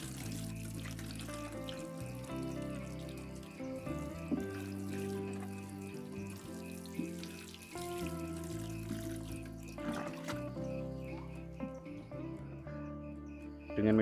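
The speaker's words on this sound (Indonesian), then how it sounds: "kita siram." Water poured over a black amplas stem cutting planted in sand, a steady trickling and splashing stream that runs continuously at moderate volume without voices.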